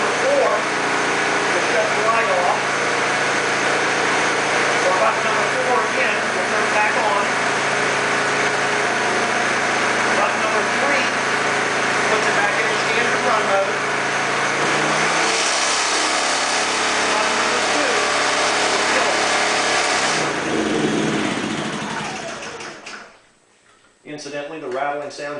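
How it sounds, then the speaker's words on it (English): A Dometic generator runs in a small 25 by 22 room, a steady loud mid-to-low engine drone for about twenty seconds with a cart rattling, then it winds down and cuts out near the end. "which is why the generator will sound a little bit louder"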